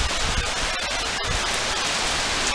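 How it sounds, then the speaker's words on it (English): Light rain falls outdoors in Canada before a storm, a steady broadband hiss of drops with a few faint ticks, close to the microphone and with no voices. "It's supposed to be light rain here. So this is light rain."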